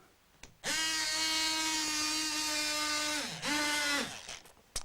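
An Aris electric wallpaper cutter whirs with a loud, steady motor whine, dipping briefly in pitch partway through before resuming, then cutting off with a few small clicks.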